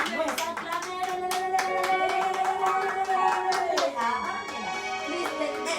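A church congregation applauds during a morning service: dense, rapid hand clapping from many people, continuing over sustained music throughout.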